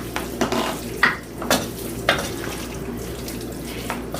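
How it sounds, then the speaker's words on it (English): Pan sauce made from pot roast broth poured over frying mushrooms, with a steady loud sizzle and bubbling broken by a few stirring scrapes, no voices. "I'm going to add it to the mushrooms"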